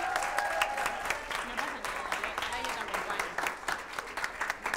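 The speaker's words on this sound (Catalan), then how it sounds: "Amb aquest aplaudiment que et fem ara..." A studio audience applauds on a Catalan TV word-spelling quiz show, steady close clapping filling the room for several seconds, with a faint voice underneath.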